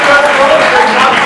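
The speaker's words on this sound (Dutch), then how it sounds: "Mag ik een warm applaus voor deze prachtprestatie?" Audience at a school's 100-days show applauding, a dense, loud wash of clapping throughout.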